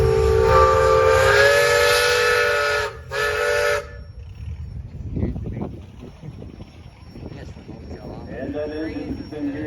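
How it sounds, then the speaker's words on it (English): A steam traction engine blows a loud, steady whistle for about three seconds at a steam and gas engine association tractor parade, with a brief break before a final short blast, then chuffing and outdoor crowd noise follow. "So Steve, let's have a whistle there."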